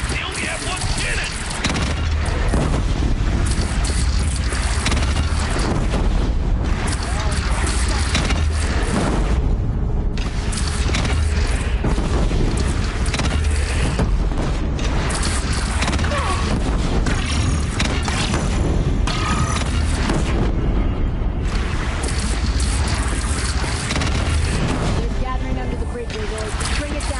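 In Horizon Zero Dawn, cannon fire and explosions from a bandit clan's cannon boom heavily and almost without a break. Dense battle noise mixes with the deep blasts, and voices speak over the din.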